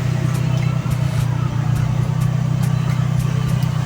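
Toyota 2E carburetor engine idling at about 1000 RPM, a loud, close, steady low hum with an even pulsing rhythm and faint periodic ticks above it, no talk.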